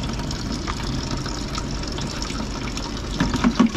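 Liquid micro nutrient is poured into a container of water, giving a steady close trickling and filling sound throughout that grows slightly louder and more bubbly toward the end.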